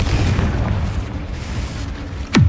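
A Confringo spell blast goes off in the Hogwarts Legacy video game, heard as a loud rumbling burst over dense game noise, ending in a sharp whooshing impact near the close.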